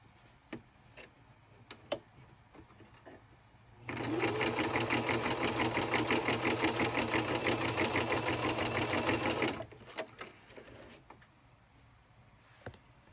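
A sewing machine stitches across a junk journal book page, a loud steady rapid needle clatter lasting several seconds, framed by quiet handling clicks and taps before and after.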